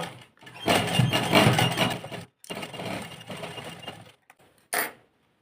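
A sewing machine stitches the neck of a suit in two sustained whirring runs, separated by a brief pause, then a short final burst before it stops.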